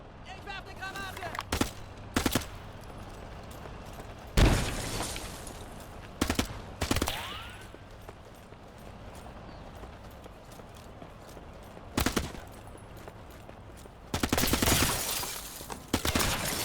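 Submachine gun fire in the video game Call to Arms - Gates of Hell comes as several short, sharp bursts spread across the scene, with talk in between.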